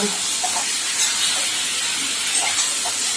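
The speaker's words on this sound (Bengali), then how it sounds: "দেখো এই চিকেনটাকে আমি হালকা করে তেলের মধ্যে দিয়ে একটু ভেজে নেব।" Chicken pieces fry lightly in oil for a Bengali-style chicken curry, giving a continuous close hiss and spatter with a few soft pops and no talking.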